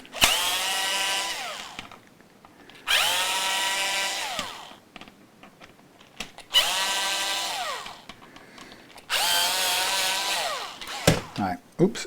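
A power drill unscrews the neck of a Telecaster-style electric guitar in four loud, close bursts of about two seconds each. The motor whine rises and falls in pitch, with short pauses and small clicks between runs.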